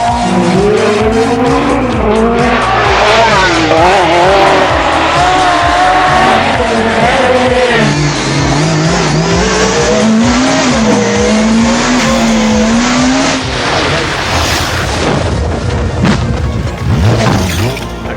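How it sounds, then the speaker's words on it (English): A rally car on a stage skids with its wheels locked and steering hard over; a loud engine note rises and falls over harsh tire scrub, with a heavy thump near the end. "Classic rally accident, steering hard over, wheels locked up and heading straight on"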